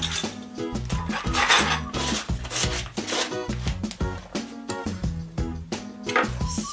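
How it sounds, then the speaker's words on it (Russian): Custard cream is whisked with room-temperature butter in a metal bowl, giving rapid rhythmic clinking and scraping of the whisk against the bowl, loud and close and steady throughout. "Все, и теперь мы взбиваем наш крем."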